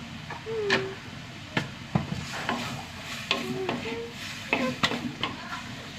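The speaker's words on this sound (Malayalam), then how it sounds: "പൊടികളൊക്കെ ഇട്ടിട്ട് ഇതിൻ്റെ പച്ചമണം ഒന്ന് പോട്ടെ" Coriander, chili and turmeric powders frying in a pan, with a low sizzle under intermittent close spatula scrapes and taps against the metal.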